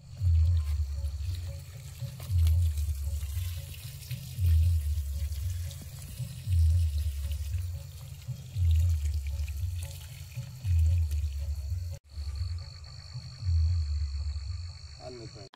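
An irrigation water pump runs in a field at night, with water gushing and splashing steadily and a low rhythmic thumping pulse repeating about every two seconds, fairly quiet.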